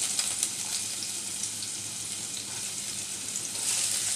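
Chopped onion, garlic and ginger fry together in a pan with a steady, even bright hiss that holds throughout, close and moderately loud, with no talk.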